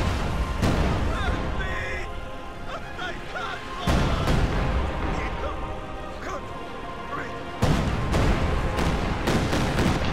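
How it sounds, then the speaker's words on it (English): Katyusha rocket artillery fires a barrage in a World War II strategy video game, with heavy booming blasts and crashing impacts, a sharp onset near the start and again midway and late, under excited commentary. "Katyusha also firing so much artillery."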